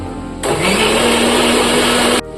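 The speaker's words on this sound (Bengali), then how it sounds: "এবার গ্রাইন্ডিং করে দিচ্ছি" A kitchen mixer grinder whirs loudly, grinding coriander leaves and a tomato for a chicken dish: the motor starts abruptly, holds a steady high-pitched buzzing roar for nearly two seconds, then cuts off sharply.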